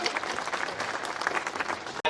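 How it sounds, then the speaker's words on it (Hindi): An audience claps at a Hindi poetry gathering, a kavi sammelan at the Kans fair in Barnahal, with dense continuous applause that cuts off abruptly near the end. "जोरदार तालियां बजाकर आवाज दीजिए"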